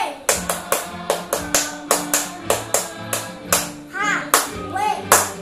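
Children at a school marching drill clap in a rhythmic patterned beat, crisp loud claps in groups with short chanted vocal calls mixed in near the end.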